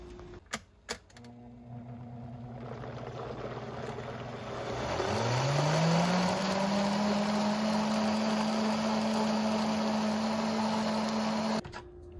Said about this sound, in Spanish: Con esa agua y la vamos a moler.